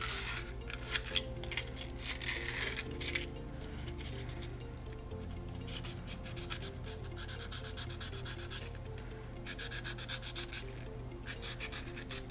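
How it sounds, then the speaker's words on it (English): Steady rasping strokes of sandpaper roughing up a pen tube, a quick rhythmic back-and-forth rubbing that holds close and fairly quiet throughout. "Now we need to rough up the tube to give the glue something to grab onto"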